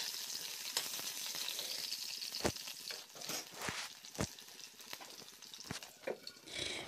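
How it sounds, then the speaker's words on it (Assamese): Cut potatoes half-frying in leftover oil in a pan, giving a steady low sizzle throughout with a few sharp knocks and clinks of a utensil against the pan. "যিখিনি তেল ৰৈ গৈছিল সেই তেলখিনিত মই আলু হাফ ফ্ৰাই কৰি ল'ম।"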